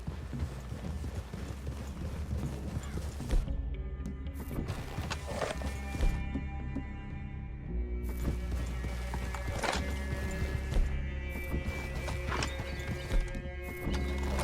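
Horse hooves clip-clop steadily over a continuous low background rumble in the video game Red Dead Redemption 2, with occasional whinnies rising above it; no voices are heard.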